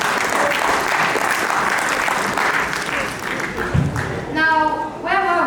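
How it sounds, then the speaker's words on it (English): An audience at a school Eid party claps for a child who answered correctly and won a prize; a broad burst of applause fills the room, then fades as a voice and a few tonal sounds take over near the end. "Round of applause again,"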